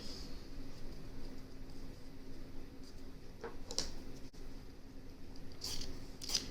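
Sharp scissors snip through fabric pieces for a catnip cat toy, a few brief crisp cuts spaced apart over a quiet room hiss, close and faint, with no talking.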